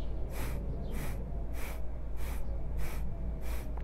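Rhythmic breathing during a guided breathing exercise, six evenly spaced airy breaths, fairly close and clear over a steady low background hum, no talking.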